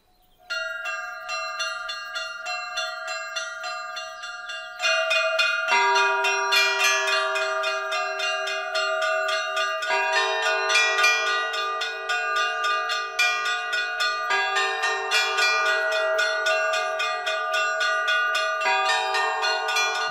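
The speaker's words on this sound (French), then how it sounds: "Le son des cloches annonce le début de la messe du soir." Church bells of a monastery peal continuously for evening mass in a rapid, overlapping rhythm, growing fuller after a few seconds and ringing on loud and unaccompanied.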